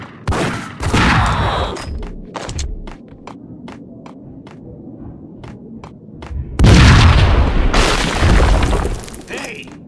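Gunfire in the Max Payne video game: bursts of rapid shots, sharp isolated single cracks, then a loud sustained volley near the end, with shattering and booming effects, all close and loud.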